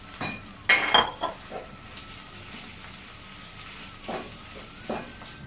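Minced mutton keema tipped into a pan with spices and green chilli, heard as clattering utensil knocks and clinks, one louder scrape early on, then sparse light taps over a quiet hiss.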